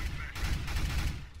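Rapid gunfire in Counter-Strike: Global Offensive on the Dust 2 map, a dense burst of shots running continuously through the moment, loud and close, with no break in the volley.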